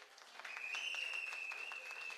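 A seated audience claps for a company at a director's testimony event, a steady wash of mid-level applause with a faint sustained tone running through it, no voices.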